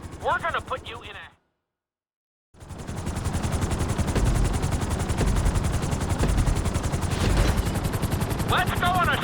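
Helicopter in Grand Theft Auto V, a loud whirring rotor drone with rapid chopping pulses, dominant after a short gap of silence, with bursts of speech at the start and end.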